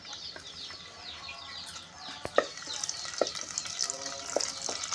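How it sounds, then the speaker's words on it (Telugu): Cumin seeds crackle and sizzle in hot oil for a cucumber chutney, a steady bright fry with scattered sharp pops and a few louder crackles building toward the end, close up with no talking. "జీలకర్ర వేస్తున్నాను"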